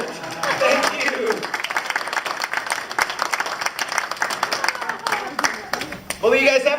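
An audience at a magician's show breaks into loud, sustained applause after a bag trick, with steady clapping mixed with cheering voices throughout.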